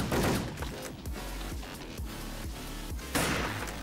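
Rapid gunfire from the online shooter Wolfteam, with repeated loud bursts and booms crowding a busy game mix for several seconds.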